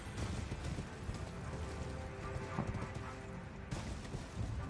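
Horse hooves in the video game Elden Ring Shadow of the Erdtree, a steady clip-clop of galloping steps, fairly faint under a muffled game ambience.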